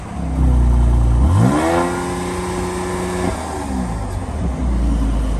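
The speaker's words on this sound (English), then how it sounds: "Give it a rev." A wheel loader's diesel engine idles, then revs hard for about two seconds with a rising, steady roar before dropping back to a lower rumble, loud and close with no talk.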